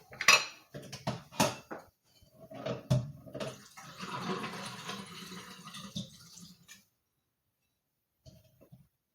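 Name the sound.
knife and fork put into the sink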